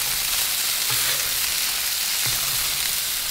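Prime rib burgers sizzle loudly and continuously on a Blackstone griddle outdoors as snow falls from the trees, with two brief low thumps breaking through the even frying hiss.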